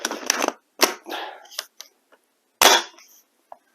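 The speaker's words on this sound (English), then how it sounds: "So look at this for if you want to cock the gun." Cocking the bolt of a Galaxy M82 Barrett airsoft sniper rifle: a series of sharp mechanical clacks and slides, a loud double snap at the start, a heavy clack midway, then a faint final click, close and alone.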